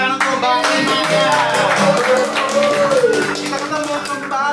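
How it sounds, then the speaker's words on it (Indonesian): Studio podcast audience clapping for a guest on a comedy talk show, steady applause with cheers and music running underneath for several seconds, voices mixed in. "Tepuk tangan untuk Mbak Inaya."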